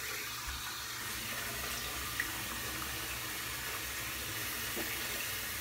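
Tap water runs steadily into a sink to wet the face before shaving, a soft continuous hiss with no talking.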